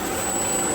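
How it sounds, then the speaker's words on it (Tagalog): A solar-powered water pump running inside a protective cage on a farm, giving a steady, even mechanical hum with a high whine, close and constant across the short stretch, no talking. "Yan po yung solar pump mga kabayan."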